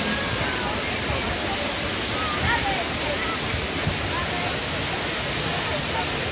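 The Krimml waterfalls in Austria roar with a dense, constant rush of falling water, loud and close, unbroken throughout with no voices.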